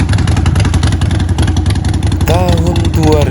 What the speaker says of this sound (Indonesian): Dijual satu unit motor Harley Davidson